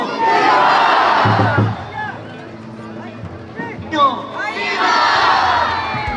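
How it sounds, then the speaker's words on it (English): A large crowd at the Sadsad festival in the Philippines roars a devotional cheer to Señor Santo Niño, loud and close, in repeated waves of massed shouting with a short lull in the middle. "the mayor shouts, "Viva kay Señor Santo Niño" 3 times"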